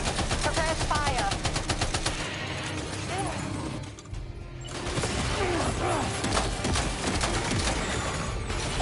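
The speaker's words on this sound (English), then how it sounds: "Ko me puca?" Rapid automatic gunfire in the Death Stranding 2 video game, dense bursts of shots with a short lull in the middle before the firing resumes, loud and continuous.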